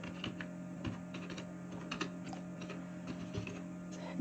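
A name is typed on a computer keyboard as rapid, irregular soft key clicks, close and quiet over a steady low electrical hum.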